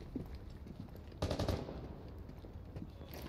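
Gunfire in the video game Rainbow Six Siege, a short rattling burst of shots in the middle amid quieter background game noise.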